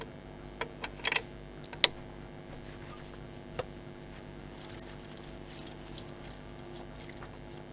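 A breaker bar works an alternator bolt on a 1992 Nissan Terrano, giving faint, sparse ratcheting clicks and a few sharper metallic ticks against a quiet background, with no voices.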